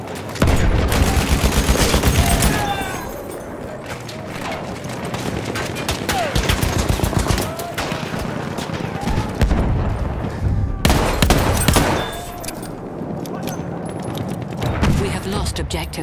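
Machine gun fire rattles in a Battlefield 1 battle, rapid bursts of gunshots in close, loud stretches broken by brief lulls, layered with distant explosions and shouted voices.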